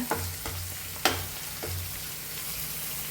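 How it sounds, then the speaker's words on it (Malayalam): Onions frying in a pan for a Kerala-style taro stem stir-fry, a steady sizzle with several sharp scraping stirs, loudest around the middle, no talk. "ഇതൊക്കെ ഒന്ന് മൂത്ത് സെറ്റായിട്ട് വരട്ടെ അതുവരെ നമുക്ക് വെയിറ്റ് ചെയ്യാം ഉള്ളിയൊക്കെ നന്നായി മൂക്കട്ടെ"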